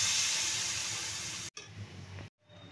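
Water poured into a hot pan of lentils for a Bengali vegetarian thor (banana stem) curry gives a loud, steady hiss that cuts off, resumes more softly, then stops, with no talk.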